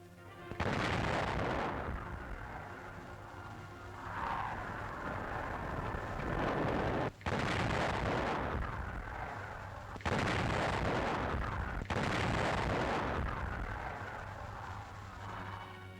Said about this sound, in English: It fires a 200-pound shell and has a range of nearly 14 kilometers.